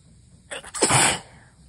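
A strong human sneeze erupts close by, a sharp intake followed by one explosive burst that tails off quickly, with no talk over it.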